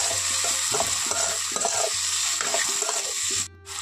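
Spices and tomato are stir fried in a pan for a jackfruit and prawn curry, with a steady loud sizzle and rhythmic scraping stirring strokes repeating at close range, then a brief sudden dip near the end.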